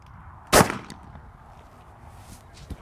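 A single loud shotgun blast rings out at ladies' league trap shooting practice at a trap and skeet club, followed by a fading echo and a faint later thump.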